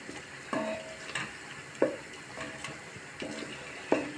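Tomato paste sautés in a pan for a lentil dish: a faint, steady sizzle under several sharp spoon knocks and scrapes against the pan, close by and with no talking.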